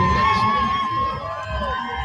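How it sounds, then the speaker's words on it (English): Crowd cheering and shouting at a public Pride event with children present, a dense continuous roar of many voices with a steady whistle-like tone running through it. "And people are cheering for it."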